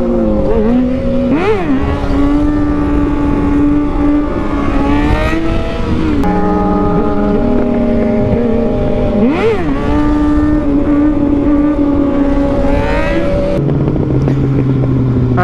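A Yamaha FZ-09 motorcycle engine revs hard during repeated wheelies, loud rising and falling pitch sweeps with steady high drone between, close and continuous with no talk.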